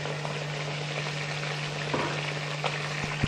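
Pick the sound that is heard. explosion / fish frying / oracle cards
fish frying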